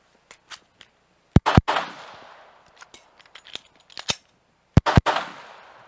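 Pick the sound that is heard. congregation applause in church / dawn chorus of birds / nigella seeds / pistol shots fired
pistol shots fired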